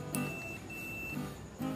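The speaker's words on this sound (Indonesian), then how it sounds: "Kita coba ukur kontaknya pakai buzzer." Continuity tester buzzer beeping as it probes the contacts of an energised contactor: short tonal beeps at the start and near the end, fairly quiet and steady.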